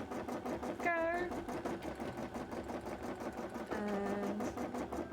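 A sewing machine stitches through cosplay fabric in a steady mechanical whir, running continuously with brief pauses, while a person talks over it.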